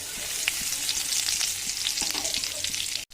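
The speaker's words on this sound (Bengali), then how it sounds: "এবার দিয়ে দিচ্ছি এর মধ্যে একটা গোটা শুকনো লঙ্কা খানিকটা জিরে আর গোটা গরম মশলা আর একটা তেজপাতা" Whole dry red chili, cumin seeds, whole garam masala and a bay leaf sizzling in hot oil in a kadai, a steady bright crackle with frequent spitting pops, ending abruptly.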